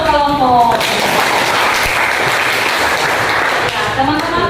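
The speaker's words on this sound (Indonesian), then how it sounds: "tepuk tangan untuk kelompok" Applause from a classroom audience after a student group's presentation, a steady dense wash of clapping across the whole stretch, with voices talking briefly at the start and end.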